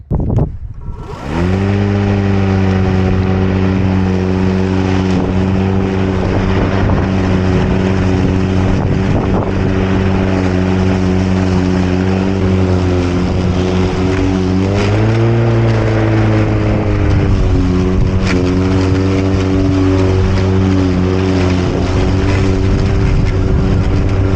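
A MightyMow 21-inch self-propelled electric lawn mower cuts overgrown grass uphill. It starts abruptly, then whines loud and steady up close, with its pitch sagging and recovering under load partway through.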